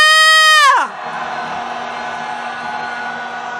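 A loud crowd at a candlelight rally and march calling for the president's impeachment breaks into a sustained roar of cheering and shouting after a brief descending tonal sound, holding steady to the end.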